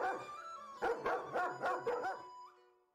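A guard dog keeps watch outside a home, barking in a run of about five loud, evenly spaced woofs close by, with no voices.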